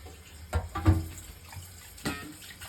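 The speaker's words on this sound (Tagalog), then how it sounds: "排骨要再洗下佢添。" Tap water runs in short bursts as pork ribs are rinsed under it, with a few louder splashes against a quiet background.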